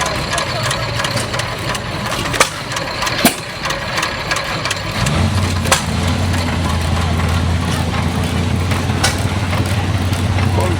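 A 3 horsepower Stover hit-and-miss engine runs at an outdoor car show, giving a steady low chugging hum that firms up partway through, with scattered sharp knocks and background crowd noise.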